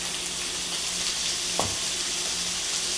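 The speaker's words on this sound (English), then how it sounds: "That's what you should hear, that nice sizzle." A steady sizzle of shrimp frying in a hot pan, with a brief soft clink partway through.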